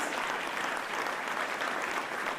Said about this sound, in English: Give that a round of applause for public safety, please